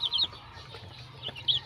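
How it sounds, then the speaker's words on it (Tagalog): Chicks peep in high, short chirps, with a few quick clusters at the start and end over quiet background noise. "Ang cute ng mga sisiw."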